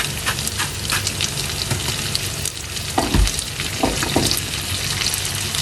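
Sautéed potatoes sizzle steadily in butter in a pan, a continuous close frying hiss broken by a few stirring clunks.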